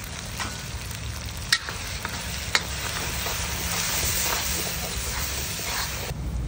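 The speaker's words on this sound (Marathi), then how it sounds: "ग्रेव्ही चांगली आपण फ्राय करून घेऊ" Masala paste and gravy frying in hot oil in a pan give a steady, close sizzle, and a couple of sharp stir clicks cut through around the midpoint.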